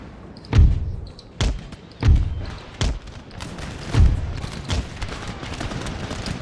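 Musket volleys in the strategy game Empire: Total War, heard as a series of heavy booming gunshot thuds at irregular intervals, loud and close with a rumbling tail.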